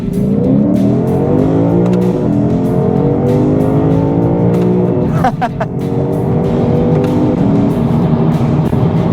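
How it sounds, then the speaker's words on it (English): A 2025 Lexus IS500 F Sport V8 engine revs upward through several quick upshifts, pitch climbing then dropping with each shift, loud and close throughout. "those upshifts are actually pretty impressive and pretty quick"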